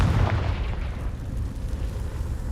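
A Confringo fire spell in the video game Hogwarts Legacy bursts with a heavy, rumbling boom that rolls out and fades over a couple of seconds.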